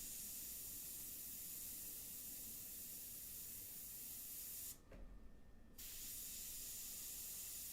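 An airbrush sprays an India ink medium mixture in a steady, close hiss that runs nearly continuously, broken by one brief pause in the middle.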